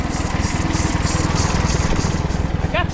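An Allis-Chalmers WD45 tractor engine runs close and loud with a fast, steady thumping chug. A brief squeaky chirp sounds near the end.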